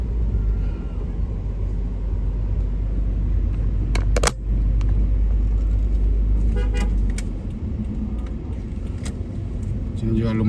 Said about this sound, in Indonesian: Sini juga lumayan biasa macet karena banyak parkir mobil di sini di pinggir jalan.